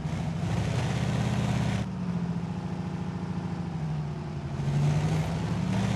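A Kenworth W900a truck engine in Euro Truck Simulator 2 drones steadily with a low, harmonic hum that dips briefly midway and then swells slightly louder near the end.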